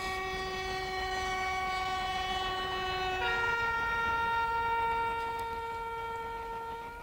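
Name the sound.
British Rail diesel locomotive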